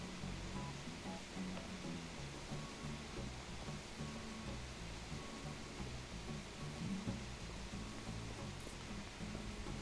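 Steady broadband rushing of waterfalls on an Animal Crossing island, a constant wash of falling water holding even and fairly quiet throughout with no break.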